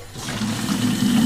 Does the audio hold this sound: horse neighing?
no